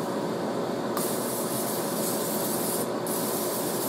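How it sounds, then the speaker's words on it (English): Vegetable oil sprays onto a steel welding fab table in two loud, close hissing bursts from a spray can, the first long and the second short, with no talking. "If you want to prevent BBs from sticking to your fab table, just spray it down with some vegetable oil."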